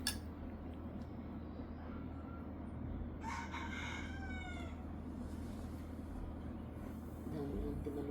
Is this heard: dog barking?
no